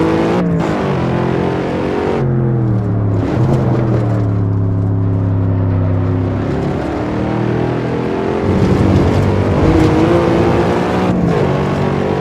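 A modded Cadillac CTS-V in the racing game Assetto Corsa revs hard, its engine note climbing and dropping through the rev range with shifts, loud and steady, no talking.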